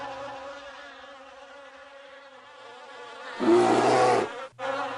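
A dense, insistent buzz of many angry bees swarming out of a beehive, droning steadily at first, then surging louder and harsher before briefly cutting out and resuming.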